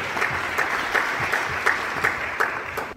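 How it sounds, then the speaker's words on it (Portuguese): A church congregation claps steadily together in a sustained round of applause, dense and lively with a few sharper accents rising out of the crowd, no speech over it. "Você pode aplaudir Jesus pela vida do mestre Alberi Araújo?"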